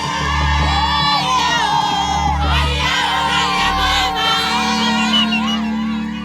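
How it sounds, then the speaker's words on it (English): A dense, loud crowd in DR Congo celebrates the arrival of rebels with continuous shouting, cheering and whooping voices, a vehicle engine rumbling low beneath the din. "we drove straight into crowds gathered to celebrate the arrival of the rebels"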